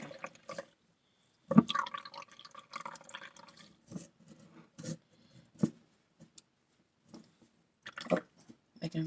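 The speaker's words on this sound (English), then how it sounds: "just squeeze all that good milk out of there" Homemade almond milk squeezed by hand from a straining bag, giving soft, intermittent wet squelches and drips in short scattered bursts, quiet and close, with pauses of near silence between squeezes.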